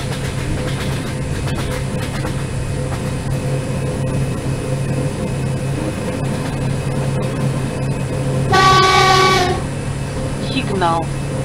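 A train horn blows once as a loud, harmonic blast of about a second, with a shorter, quieter toot following, over a steady locomotive hum and rumble as an EP1M electric passenger train in ZDSimulator nears a level crossing.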